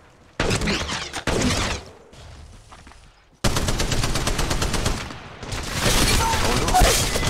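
Automatic weapon fire in Apex Legends Mobile, played on a phone: loud sustained bursts of rapid shots, broken by a short quieter gap, then dense continuous firing with cracks and impacts, close and intense throughout.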